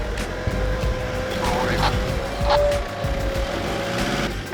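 A 4WD engine revs while the vehicle is stuck on a rock during an off-road recovery, giving a loud, sustained drone with a rising whine. Voices talk over it.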